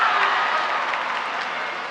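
A crowd at a high school graduation claps in a sustained, dense burst of applause that fills the hall and fades slightly toward the end.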